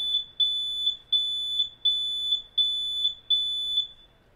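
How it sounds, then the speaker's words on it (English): Loud, piercing smoke alarm test beeping from its red button in a steady repeating pattern, six sharp high-pitched bursts with short gaps between them. "test your smoke alarms once a month by pressing that big red button like that."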